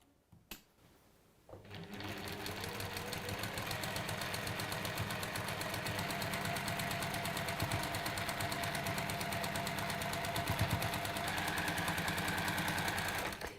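A sewing machine stitches rectangles onto a quilt block, starting after a brief quiet lead-in and then running fast and continuous for over ten seconds with a rapid mechanical whir and needle rattle.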